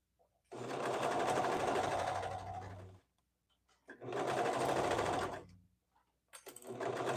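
A sewing machine stitches leggings in the round from the inside, running in three loud, steady whirring bursts separated by short pauses.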